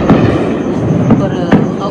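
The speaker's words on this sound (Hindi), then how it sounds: "बड़े धमाके हो रहे हैं भाई, बहुत धमाके हो रहे हैं।" Explosions during the Pathankot attack sound as repeated heavy booms and thuds in a loud, dense rumble, with a voice present in the background.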